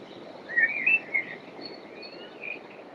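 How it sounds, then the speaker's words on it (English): Birds singing outdoors, a few faint high chirps and short warbles over a soft, steady ambient hiss. "The birds sing."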